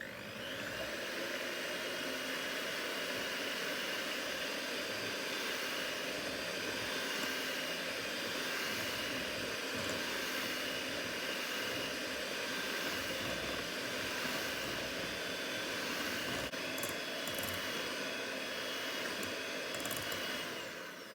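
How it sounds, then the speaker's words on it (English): An electric mixer whips a homemade marshmallow mixture with a steady, continuous whirring drone that holds at an even level for about twenty seconds, without speech. "I want to get in there with my mixer and start mixing it up"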